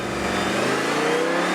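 A 2012 Audi R8 5.2 FSI V10 with manual transmission revving during a clutch-slip launch, a loud sustained engine roar with rising pitch as it pulls away.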